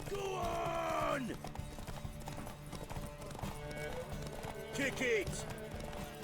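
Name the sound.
horse galloping in a video game race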